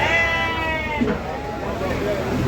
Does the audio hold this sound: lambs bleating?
yes